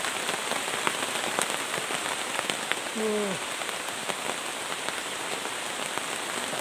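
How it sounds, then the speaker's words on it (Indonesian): Heavy rainstorm in a Sumatran forest during a solo camping trip, dense steady patter of rain drumming on surfaces with sharp drop hits throughout, and a brief vocal utterance in the middle. "Hujan badai nih sobat."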